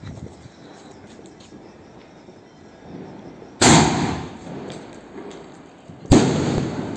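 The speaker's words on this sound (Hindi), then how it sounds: "चलो अभी टेस्टिंग करते हैं सोनी फायरो के कैलिडोस्कोप की और देखते हैं ये कैसा चलता है" Two sharp, loud sky-shot firework bursts from a Sony Pyro Kaleidoscope test, each cracking out over a low outdoor background and trailing off into a crackling fizz, the second arriving about two and a half seconds after the first.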